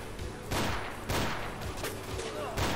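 Sniper rifle fire in the shooter Ashes 2063, several loud sharp shots at irregular intervals, each with a booming tail, over continuous background din.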